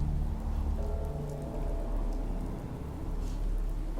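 Steady outdoor rain from the Fallout 4 video game, a dense patter of drops on surfaces with a low rumbling bed underneath, constant and moderately loud with no talk.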